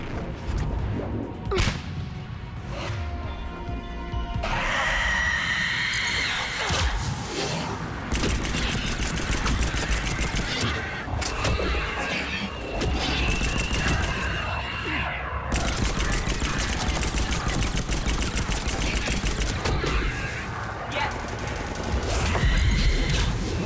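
Gunfire and a grenade blast in the sci-fi shooter Mass Effect 3, with sharp whip-like shots, whooshes and crashes layered over a dense, continuous combat soundtrack throughout.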